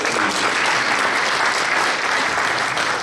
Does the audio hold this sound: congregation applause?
yes